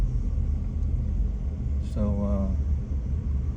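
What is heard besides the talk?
car passing behind the speaker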